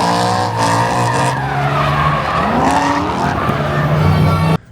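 A BMW E92 M3 drifting in an arena, its tires squealing loudly and continuously while the engine howls and shifts pitch, close and intense, cutting off abruptly at the end.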